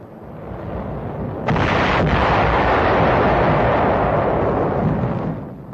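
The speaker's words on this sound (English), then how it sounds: "B-25s and P-51s strafe and bomb the island." Heavy artillery shelling and bombing explosions pounding the rocky hillsides of Caballo island in World War II, a dense, sustained rumbling roar that swells sharply after a sudden loud blast and keeps booming without pause.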